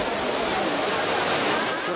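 A famous fountain in Rome sends up a steady, dense rush of splashing water. The broadband roar stays constant and loud throughout and drowns out any other sound.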